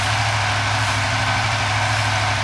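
A fuel-injected engine idles steadily, a constant low rumble with a dense, even hiss on top, close and unchanging with no voices.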